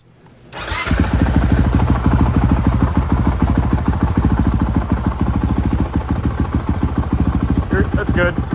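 A Honda CRF450R dirt bike fitted with a Yoshimura exhaust fires up and pulls away on a road, a loud, close, rapid-firing single-cylinder bark holding steady as it rides, with a voice briefly over it.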